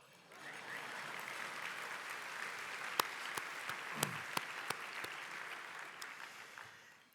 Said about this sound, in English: You're supposed to applaud.